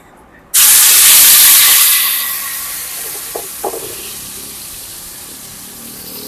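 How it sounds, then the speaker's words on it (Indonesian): Shallots and garlic hit a hot frying pan and sizzle loudly, a sudden bright hiss that peaks then slowly fades to a softer steady crackle, with a couple of small clinks of a utensil and no talking. "Oke, selanjutnya kita tumisinnya, gengs. Apa ini namanya? Bawang bumbu merah."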